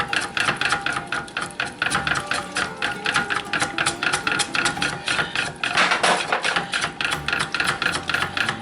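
Homemade mayonnaise is mixed in a blender while it emulsifies, giving a close, steady, rhythmic churning and knocking at a few beats per second for several seconds.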